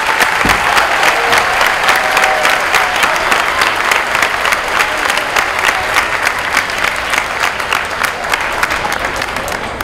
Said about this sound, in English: I want to give a round of applause to the veterans who showed up today to be part of this assembly.